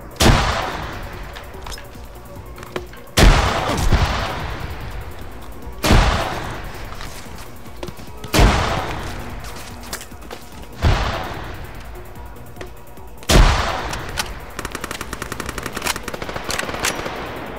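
Loud bursts of automatic and single gunfire in ArmA 3, about six sharp reports spaced every two to three seconds with ringing tails, closing in a rapid rattling burst.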